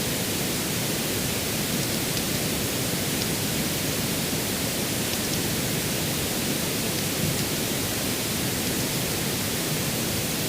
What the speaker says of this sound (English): So, now I can shut my pink noise back off.